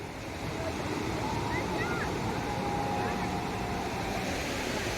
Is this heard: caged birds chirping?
no